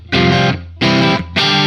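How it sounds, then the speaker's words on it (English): Distorted electric guitar with a quick slapback room reverb that makes it sound like an amp in a room: three loud sustained chords, each cut off sharply, with short gaps between them. "A quick slapback room reverb, which makes it sound more like an amp in the room."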